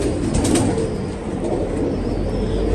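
Pigeon cooing, apparently from a fancy high-flying pigeon, comes as a low, steady murmur under constant broadband background noise, with no clear separate calls standing out.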